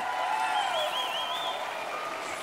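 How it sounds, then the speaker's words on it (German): Audience applauding Beatrice Egli, a steady dense wash of clapping that holds at an even level throughout, with faint whistling tones drifting above it. "einen riesen Applaus für Beatrice Egli"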